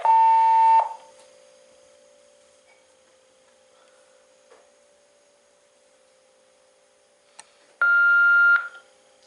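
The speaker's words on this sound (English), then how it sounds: "the second tone beep actually sounds like the Bell South 1195" A test call on a Southwestern Bell FM1000 or FA990 telephone ends with two tone beeps. A loud, steady tone lasts under a second, a long quiet stretch with a faint hum follows, and then a second, higher tone sounds.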